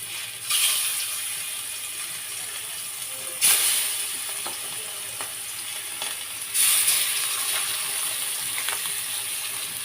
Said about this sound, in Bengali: তেলটা একটু গরম হয়ে গেছে এখন মাছগুলো একটা একটা করে আমি দিয়ে দেবো